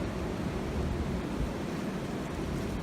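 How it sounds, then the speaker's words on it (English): Strong outdoor wind buffeting the microphone near an old abandoned asylum barn and power station, a continuous broadband roar with no voices. "It's very windy."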